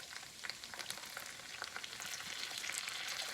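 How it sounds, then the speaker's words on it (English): Vinegar poured into hot fat in a pan while cooking wilted dandelion greens, sizzling and frying steadily with crackling bursts that grow slightly louder toward the end. "Now I'm ready to add my vinegar."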